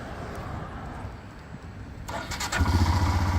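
A 2023 Royal Enfield Himalayan motorcycle engine cranks briefly, then catches and fires up into a loud, steady rumbling idle close by.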